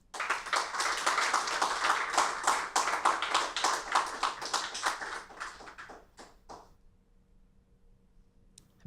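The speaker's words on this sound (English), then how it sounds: "Please join me in giving a round of applause for this year's Activism Honorable Mention" Audience applause at the 2024 Jack Layton Awards ceremony for an activism honorable mention: dense, steady clapping from a crowd that thins into scattered claps and dies away after about six seconds.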